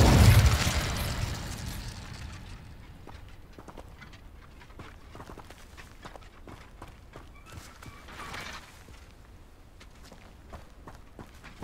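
Hogwarts Legacy's Incendio fire spell bursts out in a loud whooshing flare at the start and fades within two seconds, leaving quieter footsteps and scattered soft clatters.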